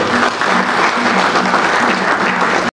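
Audience applauding the arrival of a speaker at a Congolese youth event, steady dense clapping filling the clip before cutting off sharply at the end.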